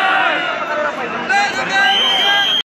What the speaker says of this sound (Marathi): खूप जबरदस्त गर्दी आहे